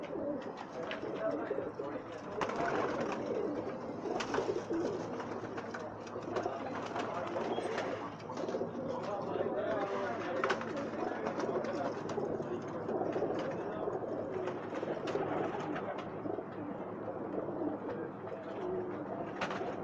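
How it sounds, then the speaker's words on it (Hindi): A flock of Pakistani pigeons coos steadily and densely throughout, with overlapping murmuring calls, wing flutters and faint background voices, in Jeddah. "कबूतर"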